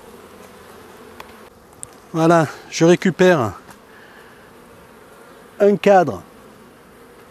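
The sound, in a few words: honeybees around an opened hive frame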